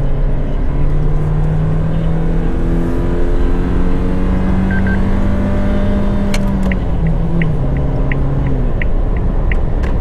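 Inside a Suzuki Jimny Nomad as it pulls onto an expressway, a steady engine and road rumble fills the cabin and the pitch climbs as it accelerates. A regular light ticking joins near the end.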